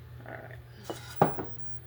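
A spoon knocks against a matcha bowl while tipping powdered green tea into it, giving a couple of close, light clinks and taps in an otherwise quiet kitchen.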